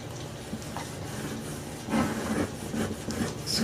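Hands press and rub down a handmade vertical lapbook cover, producing a steady dry scraping rasp that grows a little louder partway through, close and continuous with no talk.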